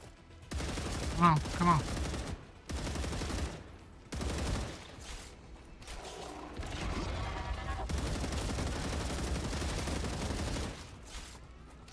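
Bursts of gunfire from the Star Rupture video game, loud and repeated in choppy clusters separated by brief gaps, with a voice speaking briefly over the shooting.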